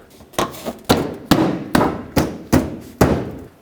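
Plastic clips on a 2007-2009 Saturn Aura front bumper cover snap into place with seven sharp knocks at roughly half-second intervals, loud and close, each thump decaying briefly, with no talking.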